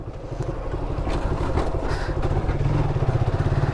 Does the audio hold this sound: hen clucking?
no